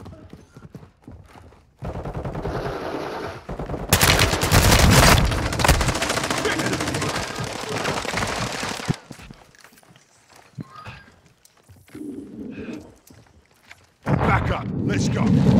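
Bursts of automatic gunfire in Call of Duty Warzone DMZ, loud rapid volleys that stop and start, mixed with footsteps, gear clatter and shouted voices across a chaotic stretch.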